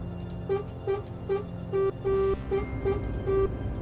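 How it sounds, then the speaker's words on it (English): Truck horn sounding in Euro Truck Simulator 2 on a Ford F-MAX cab: a series of about eight short, steady tonal honks in an uneven rhythm, some held longer, loud over a constant low engine hum. "There are two types of horns."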